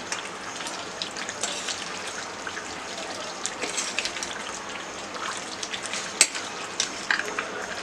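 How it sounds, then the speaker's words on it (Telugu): Chicken curry with liver stirred in a pan on the stove, a steady sizzling bubble with scattered soft scrapes and small clacks throughout. "మొత్తం ఒకసారి పైన చికెన్ కలుపుకుందాం"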